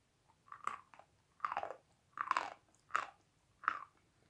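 Crisp crunching bites of sawn school chalk, about five evenly spaced chews, close and dry, with no talking.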